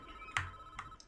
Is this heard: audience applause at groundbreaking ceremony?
no